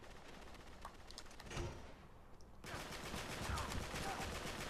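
AK rifle gunfire in an online shooter game, a sustained rattle of rapid automatic shots that swells louder halfway through, continuous and dense.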